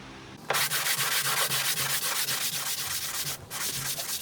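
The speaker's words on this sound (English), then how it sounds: "and we're gonna start sanding away." A longboard sands fairing compound on a boat hull in steady, close back-and-forth strokes, a continuous loud rasping scrape with rhythmic pulses and a brief pause near the end.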